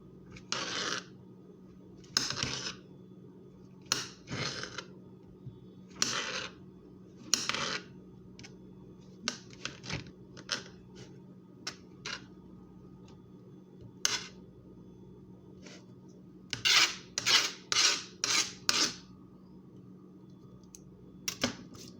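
Knife chopping ingredients for a creamy chicken and mushroom carbonara on a cutting board: irregular sharp taps in short bursts, with a quick flurry of rapid chops near the end, close and moderately loud over a low steady hum.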